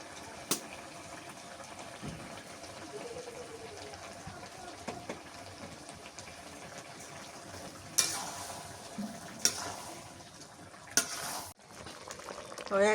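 Malabar spinach curry with roasted cumin stirred in a pan, a soft bubbling simmer with occasional louder scrapes and clatters of the spoon, fairly faint, with some talk in the background.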